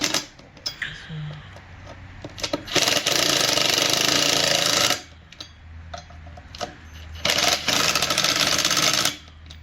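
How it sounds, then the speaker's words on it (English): A power drill on a low setting tightens the sprocket nuts on a 2007 Kawasaki Ninja ZX6R, heard as two loud buzzing bursts of about two seconds each, separated by quieter handling noise. "And we use the drill, but it's on a low setting."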